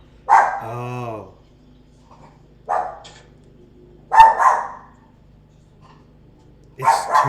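Bentley the dog lets out a long howling bark, then several sharp barks spaced a second or two apart, close and loud against a quiet room, with a low murmur of talk between them.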